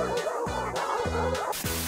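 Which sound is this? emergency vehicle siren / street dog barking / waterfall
street dog barking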